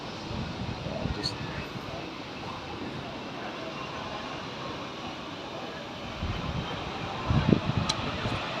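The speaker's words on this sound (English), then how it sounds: "every few minutes a plane's taking off or landing" An airplane taking off or landing on the runway at Gran Canaria airport, heard from a nearby rooftop bar: a moderate, steady engine rumble that grows louder near the end.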